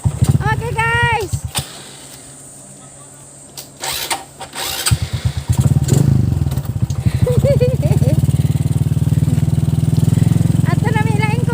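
After a stretch of talk at a birthday gathering in Lawis Panas, Candijay, Bohol, a nearby motorcycle engine starts up and settles into a steady, rumbling idle while voices continue over it.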